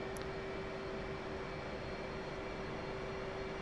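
Jet aircraft engine throttling up on a carrier deck in the DCS Supercarrier flight simulator, a steady, even roar with a constant whine running through it, heard alone without talking.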